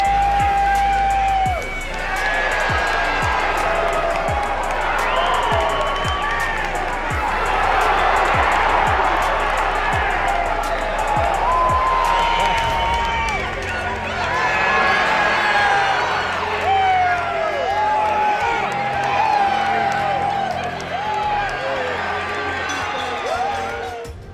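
An arena crowd at a boxing match roars, whoops and cheers continuously through a knockout flurry, swelling and falling in loud waves with no clear speech.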